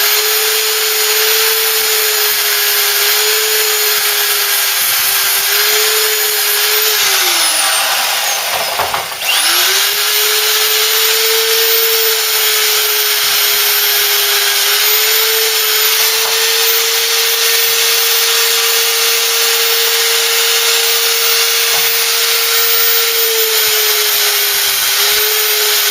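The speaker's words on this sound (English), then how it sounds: "I'm going to take the tops off the rivets." A steady, loud power tool whines while cutting the tops off steel rivets on a Ford Cortina, holding one continuous pitch with a brief dip partway through before resuming at full speed.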